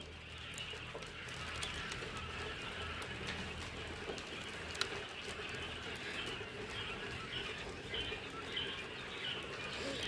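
Pet quail in a pen produce faint scattered chirps and scratchy rustling over a steady background hum, with occasional soft clicks and a single sharper knock.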